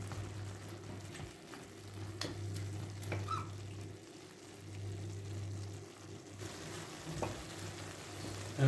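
Minced meat for tantuni sizzles steadily in a pan as its juices cook off, a soft continuous frying hiss with occasional stirring scrapes and clicks, close and moderately quiet, no talking.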